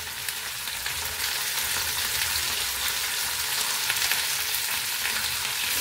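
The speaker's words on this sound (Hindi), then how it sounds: "हमें मीडियम फ्लेम पर भिंडी को अच्छे से पहले पकाना है" Okra fries in a pan with turmeric and salt, giving a steady, loud, even sizzle that holds without a break from start to finish.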